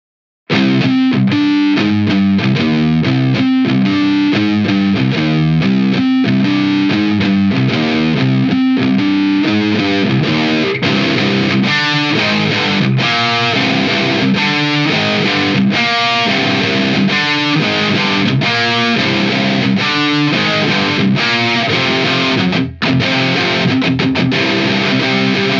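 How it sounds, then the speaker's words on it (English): Heavily distorted electric guitar through a JHS Hard Drive high-gain distortion pedal plays loud, chugging riffs with dense, saturated tone, continuous and up close throughout. "those high-gain wall of distortion sounds textures of a Master Rectifier"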